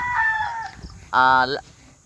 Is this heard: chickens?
yes